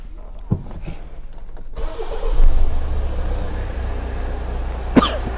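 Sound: Hyundai car engine starting and running rough

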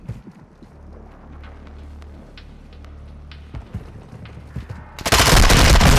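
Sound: gunfire in a video game

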